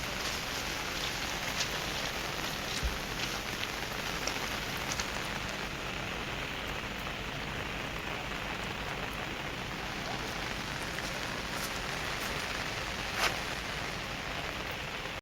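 Steady heavy rain pours down continuously in a forest, a dense even hiss with scattered droplet splashes and no voices.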